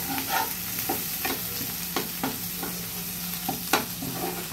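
An onion and tomato masala fries in oil for homemade misal, giving a continuous close sizzle with rhythmic spatula scrapes and stirring taps, about a stroke every half second, and no speech.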